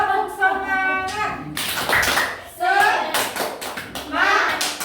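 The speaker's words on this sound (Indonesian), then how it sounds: "Tepuk semangat." Schoolchildren in a classroom perform a rhythmic chant-and-clap routine, bursts of hand claps alternating with group chanting voices, close and lively, in repeated short patterns.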